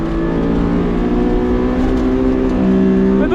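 A stock Honda S2000 engine revs hard and climbs on track, a loud steady tonal drone held close throughout with a rising pitch near the end and no voices.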